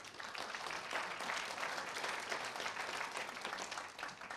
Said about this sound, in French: On peut applaudir, je crois.